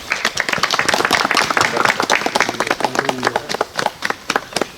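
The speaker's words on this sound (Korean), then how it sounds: "박수로 환영해 주시면 감사하겠습니다." Audience applause at an outdoor memorial ceremony at the April 19th cemetery, a close, fairly loud burst of individual hand claps with distinct sharp slaps, thinning into scattered claps toward the end.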